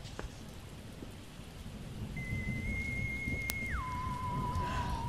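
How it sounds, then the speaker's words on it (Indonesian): Steady nighttime rain hisses over low, rolling thunder, with a sharp crack near the middle and a faint thin whistling tone gliding in and then stepping down in pitch. "Suara hujan malam itu terdengar begitu menyeramkan. Ditambah suara petir yang menyambar"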